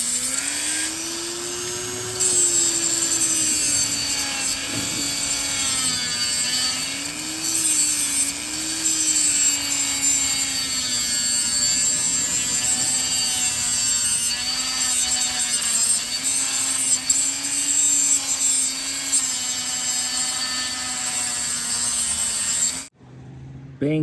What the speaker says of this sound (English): I'm gonna use the Dremel with a cutting wheel.